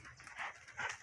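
A female dog whimpers softly in two short, high whining bursts, faint and close, with no speech over it.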